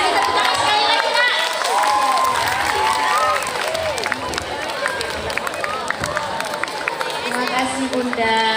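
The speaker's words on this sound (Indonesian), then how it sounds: "Ya, kasih tepuk tangan sekali lagi" An audience at a gathering of the MTsN 1 Labuhanbatu school family claps and cheers loudly throughout, with children shouting among the crowd and people talking over the noise.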